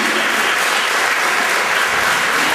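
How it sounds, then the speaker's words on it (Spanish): At the closing gala of an Asturian film festival awards ceremony, a hall audience claps steadily and loudly for the presenter and winners on stage, a thick, unbroken wash of applause with no voices over it. "Alfonso, al presentador, un aplauso, José Manuel García"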